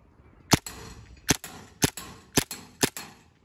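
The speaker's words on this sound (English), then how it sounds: "we're gonna do the shooting test on the gas blowback pistol" A gas blowback airsoft pistol fitted with an AceTech Lighter S tracer unit fires five sharp, close cracks at roughly half-second intervals, each followed by a short mechanical clack, with no speech.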